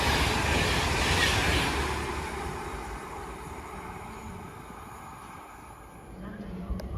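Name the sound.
Avanti West Coast class 390 train passing through Watford Junction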